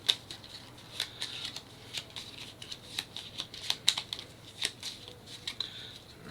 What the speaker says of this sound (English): Let me go ahead and shuffle up the tactics real quick.